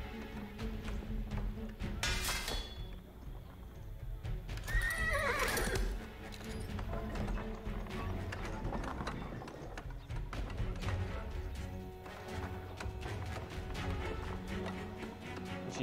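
Horses in the Age of Empires 4 strategy game, with steady clip-clop hoofbeats throughout, loud whinnies near the start, and a busy backdrop of battle and mechanical ticking.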